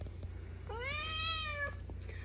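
A male cat at a window lets out a single clear, drawn-out meow, rising and then falling, over a quiet indoor background hum.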